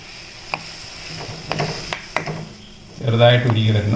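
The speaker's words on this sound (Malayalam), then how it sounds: "അതിൽ 2 സ്പൂൺ ബട്ടർ ഇടുക. അത് ചെറുതായിട്ടൊന്ന് ഉരുകി വരണം." Two spoons of butter melting in a frying pan for shahi paneer, a few faint clinks and stirring scrapes, then a louder sizzle swelling near the end.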